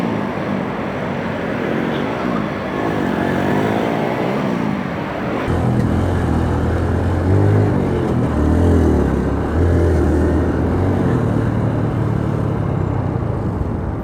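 A Honda CB1 110 cc motorcycle rides through traffic, its small engine giving a steady, close drone that swells and shifts pitch as it accelerates and weaves between vehicles, with no talking.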